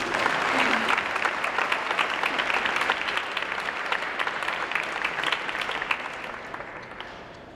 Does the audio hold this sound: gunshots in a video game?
no